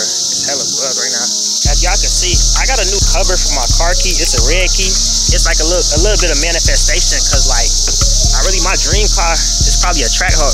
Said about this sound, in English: That sound is cicadas, bro.